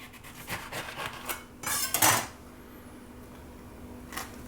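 A knife slicing a ripe, wrinkled passion fruit in half on a hard surface, a few scraping knocks building to a louder crunching cut, then near quiet with one last small tap.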